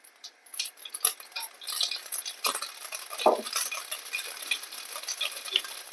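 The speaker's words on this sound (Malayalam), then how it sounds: "എണ്ണ ചൂടായിട്ട് നമുക്ക് ഇതിലേക്ക് അര ടീസ്പൂൺ കടുക് ചേർത്തെടുക്കാം" Mustard seeds sputter and pop in hot coconut oil, with light crackling and a few utensil clinks against the pan, close and moderately loud.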